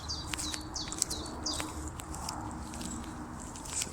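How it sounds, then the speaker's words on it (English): Birds chirp and twitter in short bursts outdoors, fairly faint and distant, over a quiet background with a few soft rustles. "Only the sounds of the birds to break up the silence, eh?"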